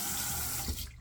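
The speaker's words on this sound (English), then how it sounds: "add just a little bit of water to that" Tap water splashing into a sink as a little is added to thick shaving lather, a steady close faucet rush that cuts off near the end; no talking.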